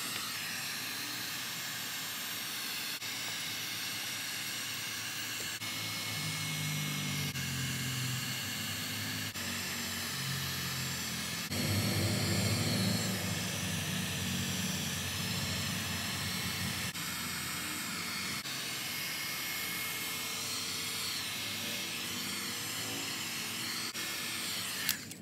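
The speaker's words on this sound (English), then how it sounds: "This is the heat gun I'm using." A Harbor Freight heat gun runs steadily for the whole stretch, its fan and heating element giving a continuous airy hiss with a lower whir that swells for a while in the middle, with no talking.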